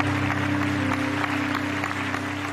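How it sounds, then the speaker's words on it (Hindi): Studio audience applauding on a Pakistani TV game show, dense steady clapping under a constant hum, sustained throughout. "बहुत सारी तालियां इसके।"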